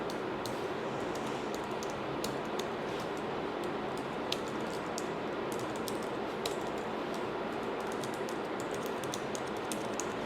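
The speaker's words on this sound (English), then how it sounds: "And now you can type in your personal information." Rapid clicking keystrokes on a computer keyboard, irregular and fairly faint over a steady background hum, with no voices.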